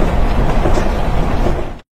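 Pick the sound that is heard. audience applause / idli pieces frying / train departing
train departing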